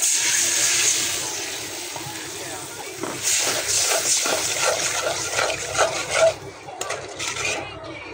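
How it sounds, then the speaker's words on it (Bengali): Water poured into a cooking pan holding cumin, salt, turmeric and chili: a hissing, splashing rush with some clinks and stirring, close and fairly loud, with no clear speech. "পানি দিই।"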